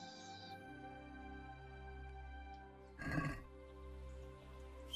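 A horse whinnies once in the Kingdom Come: Deliverance video game, a short, loud burst heard in the middle over steady, droning game music.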